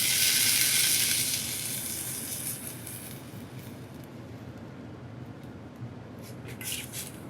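Leeks sweat in a pot with a soft, steady sizzle, louder and brighter at first, then settling into a quieter, even hiss with a few light clicks near the end.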